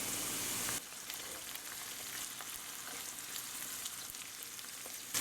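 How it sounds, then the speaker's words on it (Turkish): Carrots sautéing in a pan for a home-cooked green lentil and vegetable dish give a steady, close sizzle and crackle that runs throughout, louder for the first moment, with occasional stirring clicks. "Havuçlar ile birlikte 1-2 dakika kavuracağım."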